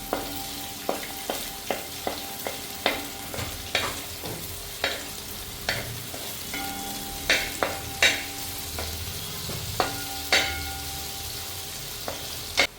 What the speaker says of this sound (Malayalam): അരിഞ്ഞു വെച്ചിരിക്കുന്ന സവാള ഇട്ട് കൊടുക്കാം